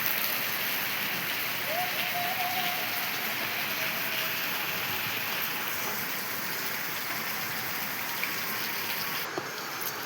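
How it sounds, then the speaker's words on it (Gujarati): Heavy monsoon rain pours down in a dense, steady roar that fills the whole stretch without pause, with a faint brief tone rising above it. "બહુ જોરદાર વરસાદ આવી રહ્યો મિત્રો, જુઓ."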